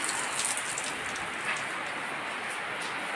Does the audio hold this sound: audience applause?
no